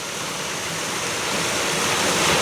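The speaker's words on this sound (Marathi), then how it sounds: "असला जोरात पाऊस पडतोय ना" Floodwater from heavy monsoon rain flows through a flooded building in Vasai, a dense, loud, continuous rushing wash with no pauses, swelling slightly toward the end.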